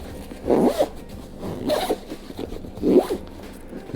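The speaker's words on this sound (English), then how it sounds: "Zipped up." Three quick zipper pulls close a motorcycle travel bag, each a short, raspy zip up close with brief pauses between them, no talk.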